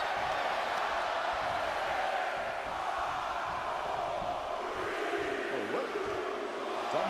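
Arena crowd in the WWE 2K22 wrestling game roars steadily during a match, a continuous wash of massed voices with rhythmic chanting swells, no single distinct count standing out.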